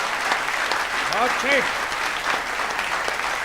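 An audience at a Hindi poetry recital (kavi sammelan) claps loudly and continuously, with voices calling out approval over the applause.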